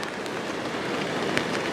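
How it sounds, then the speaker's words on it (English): Steady patter of rain on a tarp, a dense hiss with occasional sharper drops standing out, continuous throughout. "It's gathering rain right now"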